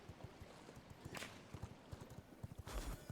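Horse hooves clip-clop in the video game V Rising, a quiet, even trot of soft hoofbeats with a couple of brief whooshing swells and no talking.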